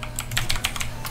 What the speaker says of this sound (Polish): moja klawiatura jest trochę za głośna i żebym ją przyciszył